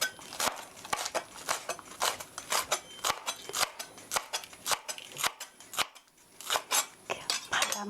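A knife slices green onion thinly on the diagonal for japchae, using only the green parts: a brisk, uneven series of crisp chops against a cutting board, close and clear, with brief pauses between bursts.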